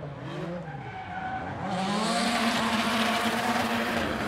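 A drift car in British Drift Championship Pro-Am qualifying bounces off the rev limiter through the final turn, its loud, close engine buzzing under screeching tyres that swell and hold steady toward the end.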